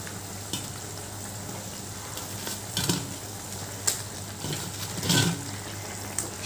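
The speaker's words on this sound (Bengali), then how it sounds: "ঝোলটা তো ফুটে উঠেছে" Curry gravy simmers at a boil as pre-fried eggless vegetarian 'eggs' are added, a steady bubbling sizzle broken by a few louder splashes and stirring clatters.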